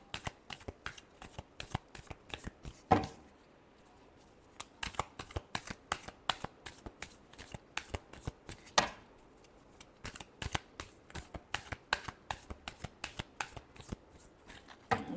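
A deck of tarot cards is shuffled in quick, crisp riffling bursts with short pauses between them, close and fairly quiet, and no talking is heard.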